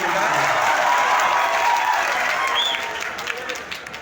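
A workplace crowd at a company safety gathering breaks into dense, sustained applause that holds steady and then thins out toward the end, loud and close with no talking over it.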